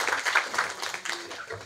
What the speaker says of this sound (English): We have to clap for them.